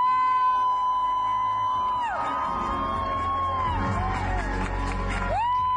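A large concert crowd cheers and whoops as a performance ends. The roar sits beneath sliding tonal sounds, like whistles or feedback sweeps.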